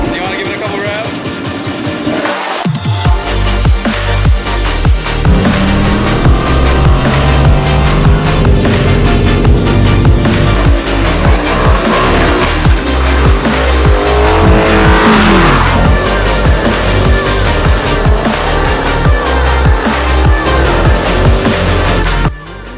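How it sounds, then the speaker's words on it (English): A car engine revs hard during a supercharger install, with loud, sustained roaring and repeated throttle swells after a brief quiet opening, dropping off at the very end. "Do you want to give it a couple revs?"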